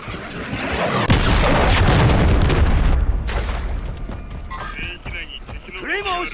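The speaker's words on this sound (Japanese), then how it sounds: "敵が巡航ミサイルを撃った" Cruise missile explosion in Call of Duty MWIII: a loud, close boom with a long rumbling roar that decays over a few seconds, followed by fainter clatter and voices.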